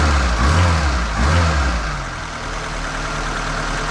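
Fiat Abarth carburettor engine idling steadily up close after long storage, a low rumbling drone with a brief rise in revs early on, then settling into an even idle with a faint ticking from the exhaust valve side.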